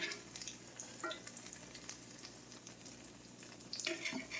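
Pinto bean fritters crackle and sizzle steadily in a hot frying pan, with small pops and an occasional utensil clink, fairly quiet.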